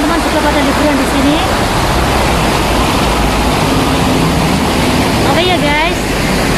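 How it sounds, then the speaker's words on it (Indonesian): A water fountain splashes in Golden Bauhinia Square, Wan Chai, Hong Kong, a loud steady rushing wash of falling water filling the outdoor scene, with faint voices and city noise underneath. "Dan ini ada air pancuran yang biasanya teman-teman juga pada liburan di sini."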